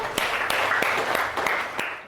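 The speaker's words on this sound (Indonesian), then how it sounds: "Oke, tepuk tangan untuk Mang Ayu" Students in a classroom clap for a classmate after her presentation, a short burst of scattered hand claps with a few sharper individual claps standing out.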